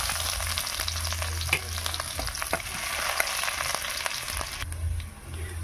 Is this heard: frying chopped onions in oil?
yes